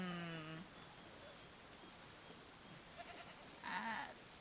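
Sheep bleating in the video game Assassin's Creed 3, one clear bleat at the start and another near the end over a steady rain-like hiss of ambient noise, fairly faint and with no talk.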